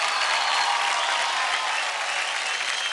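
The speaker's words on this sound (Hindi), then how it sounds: "इसी बात पे जोरदार ताली हो जाए" A studio audience at a televised dance competition claps loudly and enthusiastically, a dense, even wash of applause that holds steady throughout.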